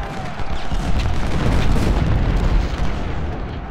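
Cannon artillery booming in Ultimate General: Civil War during the Battle of Shiloh, a continuous loud rumble of overlapping blasts rolling on without a break.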